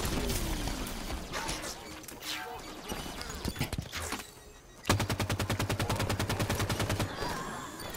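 Rapid automatic gunfire in the Halo 5 video game, with scattered shots and crashes at first and then a loud, steady burst of evenly spaced rounds, alongside game voices and effects.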